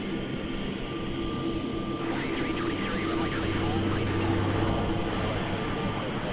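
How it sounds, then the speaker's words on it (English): A Saab 340 turboprop taxiing at Melbourne Airport, heard as a sustained low engine drone with a steady tone that grows into a broader rushing roar partway through. "You can hear a Saab taxiing. I love the sound of the Saab 340s."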